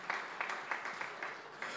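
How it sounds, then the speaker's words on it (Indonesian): Rhythmic clapping from a church congregation, about six even bursts in under two seconds, moderately faint and slightly distant. "Tepuk tangan yang meriah untuk kemuliaan Tuhan."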